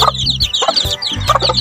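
Green-legged chickens and their young chicks cluck close by in a short, busy burst of overlapping calls, loud and near.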